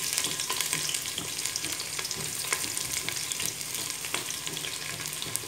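Lengthwise-sliced onions fry over a medium-high flame alongside dried red chillies for chicken stew, giving a dense, continuous sizzle with faint crackles and occasional stirring.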